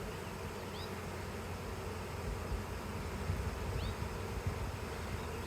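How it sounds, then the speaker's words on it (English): Honey bee swarm buzzes all around in a continuous, dense drone, steady and moderately loud outdoors, with no voices over it. "there's this huge swarm of bees all around. Amazing sound too"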